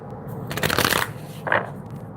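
A deck of tarot cards is riffled twice in quick succession during a live reading, two short, crisp flutters of card edges heard up close in an otherwise quiet room.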